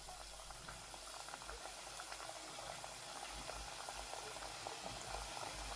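Muthiya dough pieces for Gujarati churma ladoo fry slowly in hot oil, giving a continuous, even bubbling sizzle heard close up and fairly quiet, with no voices.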